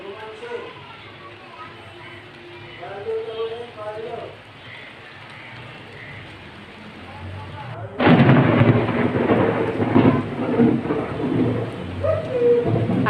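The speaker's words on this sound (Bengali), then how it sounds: "এত বৃষ্টি নামছে সাথে আবার বজ্রপাতও হয়েছে" A thunderstorm with heavy rain: after a calmer stretch where a person speaks, a loud roaring downpour with rumbling thunder suddenly sets in and continues strongly.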